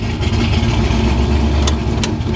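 A 1970 Chevrolet Nova's engine idling with a low, steady rumble and slight lope, close and loud, with no talking over it.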